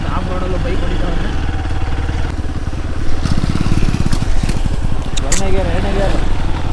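A motorbike engine drones steadily while riding an off-road hill track at Handi Gundi Betta in Ramanagara, loud and close with a rough rhythmic chug, mixed with wind and voices talking over it.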